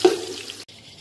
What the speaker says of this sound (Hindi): तो हम इसमें थोड़ा सा पानी डाल देंगे पहले, ताकि इसका कलर आ जाए।